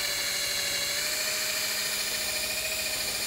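A rotary brush spins at 1500 RPM with moderate pressure along a waxed ski base, giving a continuous high, even whine that holds steady and close throughout.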